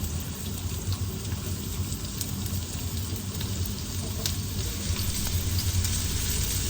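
Continuous crackling sizzle of onions frying in a hot pan, close and even throughout, with no talking.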